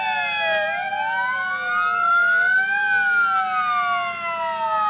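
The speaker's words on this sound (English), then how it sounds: "Well, good news. The siren works." A fire engine siren wails at a Christmas parade, its pitch rising and falling in long sweeping cycles, loud and steady with no voices over it.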